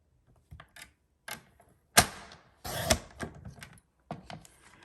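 Paper being cut for a handmade thank-you card, heard as a few sharp, separate clicks and snaps of a paper trimmer or cutter at irregular intervals, close and alone against near silence.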